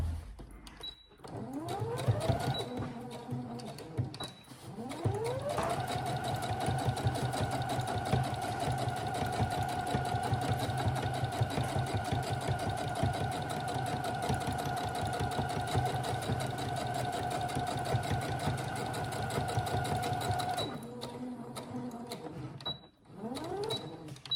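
A sewing machine topstitches a shoulder bag with a zipped pocket: short stitching bursts, then one long steady run of rapid close-up needle chatter, then a few brief bursts at the end.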